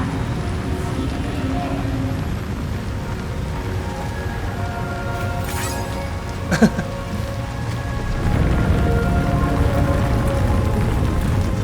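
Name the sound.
rain in the video game Death Stranding 2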